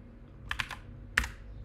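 API keys are typed on a computer keyboard in two short bursts, a quick cluster of three or four clicks followed by a single sharper keystroke, close and alone.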